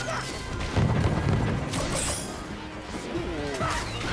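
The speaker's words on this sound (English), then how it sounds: "I guess explosions are the order of the day here" Explosions in the video game Skylanders: Spyro's Adventure, a run of loud crashing booms and smashing impacts with whooshing debris, several bursts over a few seconds with brief gaps between them.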